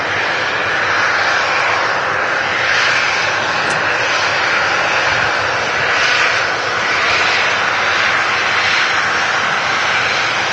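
A Jet2 airliner arrives at Manchester Airport, its engines a steady, loud roar that swells and eases slightly across the clip with no talk over it.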